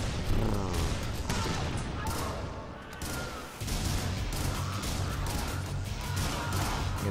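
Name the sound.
grenade launcher firing in a video game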